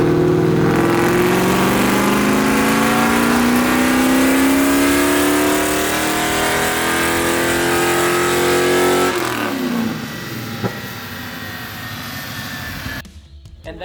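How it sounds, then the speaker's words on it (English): The engine of a 1970 Dodge Charger fitted with FiTech EFI runs loud and close on a dyno, its pitch climbing steadily through a long pull before dropping off and settling to a quieter idle near the end. "hook the vehicle up to an engine dyno and see how much power this engine puts down"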